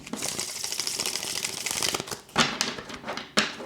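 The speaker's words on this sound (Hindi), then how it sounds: "शफल करते हैं कार्ड्स को" Tarot cards shuffled close up, giving a continuous papery riffling flutter with a few sharper snaps toward the end.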